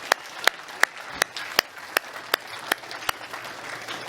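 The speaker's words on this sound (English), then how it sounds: "So let's give a big hand of applause for Melissa Day Morton." Audience applause at a beef industry roundtable, heard as a thin ambient wash punctuated by about a dozen sharp, evenly spaced claps close to the microphone.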